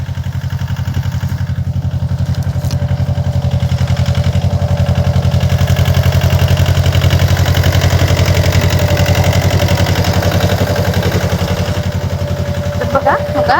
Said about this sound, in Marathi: ट्रॅक्टर आलंय